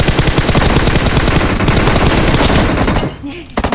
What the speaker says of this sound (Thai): เฮียผมยิงหัวไปสองนัดแม่งไม่ตาย